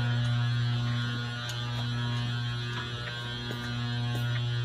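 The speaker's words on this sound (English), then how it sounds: "into operation 230, which is a Landis CNC plunge grinder" A Landis CNC plunge grinder runs on a diesel crankshaft production line, giving a steady loud mains-like hum with faint machine ticks and clicks over it, with no talking.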